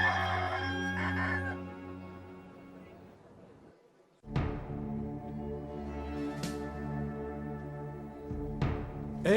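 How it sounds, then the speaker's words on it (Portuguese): A rooster crows in an animated film about the story of Jesus, its call rising over music and other sounds, with a second crow following a few seconds later. "antes que o galo cante"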